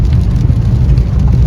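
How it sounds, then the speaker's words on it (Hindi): Heavy rain pounds steadily on a car while driving. The roar is dense, continuous and close, with a deep low rumble. "देखिए देखिए, अब आपको पता चलेगा कि कितनी तेज बारिश हो रही है"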